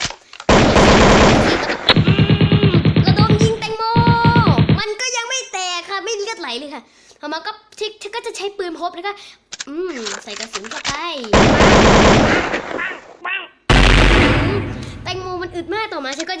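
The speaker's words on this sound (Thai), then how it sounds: "ใช้ปืนนะคะ ฉันก็ใช้ปืนค่ะ ยิงมัน" Gunfire in a video game, long loud bursts of rapid automatic shots, including sniper fire, in several separate runs, with someone talking and exclaiming between them.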